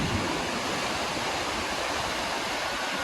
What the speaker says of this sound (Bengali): জাং ওয়াটারফলস, ওরফে নোরানাং ফলস।